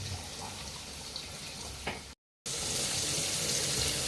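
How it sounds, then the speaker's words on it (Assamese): Mutton liver frying in bubbling oil, a dense hiss and crackle that cuts out briefly and returns louder, close and steady. "এতিয়া দেখিছে লিভাৰটো আপোনাৰ তেলখিনি ফুটি আহিছে"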